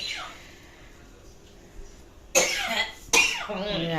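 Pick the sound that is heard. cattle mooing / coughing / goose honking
coughing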